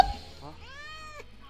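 A single short cat meow from a Roblox video game, a rising then falling call that is brief and fairly faint against a quiet background.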